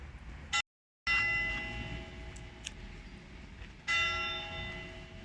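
Church bells ringing outdoors in a park with strong, resonant strikes that sustain and decay, a brief silent gap, then another clang.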